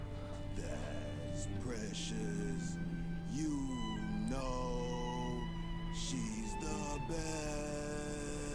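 A pet cat meows in drawn-out, pitch-bending calls several times, heard under steady background music and other sound throughout.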